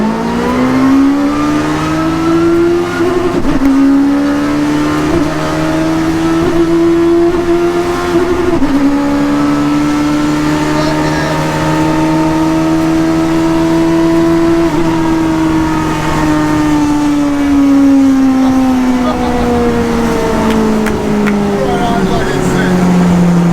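A £500 Peugeot 106 fitted with a superbike engine accelerates in long, loud, high-revving pulls, with a faulty clutch jolting under throttle and the pitch sagging and recovering. A voice speaks briefly under the engine.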